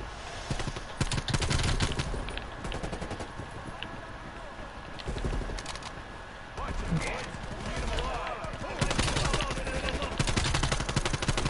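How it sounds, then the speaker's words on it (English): Enemy gunfire in the Call of Duty Cold War campaign on realism difficulty, rapid bursts of shots crackling repeatedly near and far beneath a player talking. "Like those guys sitting there shooting at you."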